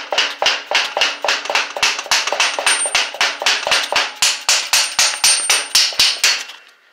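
A hammer taps parts together while a wheelie machine is assembled: a steady, quick series of about two dozen sharp, close metallic knocks, evenly spaced, that stop suddenly.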